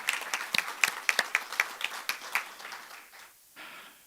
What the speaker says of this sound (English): So again, a round of applause for them